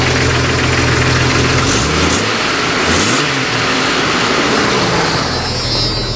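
Car engine with a little clatter from the cylinder head, running loudly and close, a steady idle with a brief rev partway through, no talk.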